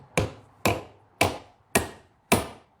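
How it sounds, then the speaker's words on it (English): A hammer driving a nail in five sharp, evenly spaced strikes, close and clear with no talk. "Let's see how it drives a nail."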